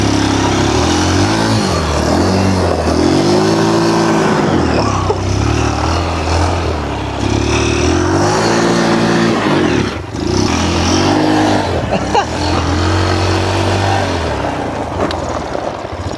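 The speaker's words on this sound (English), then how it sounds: "I'll just play around with the throttle and the choke, try to get her a bit warmed up, see if she'll stay idling" A cheap used ATV quad engine, cold and on choke, idles roughly and repeatedly revs up and drops back as the throttle is worked, loud and close, with rising and falling engine pitch across several bursts.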